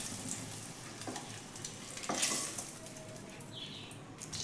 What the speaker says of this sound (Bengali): ডিমগুলোকে একটু ভালো করে ভাজবো